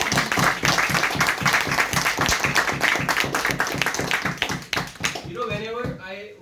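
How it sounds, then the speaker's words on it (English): An audience at a Toastmasters club farewell ceremony gives the PR team a sustained round of applause, with dense, steady clapping that tapers off near the end as a voice begins speaking. "Let's have a huge clap for Toastmaster Tushar Gautam"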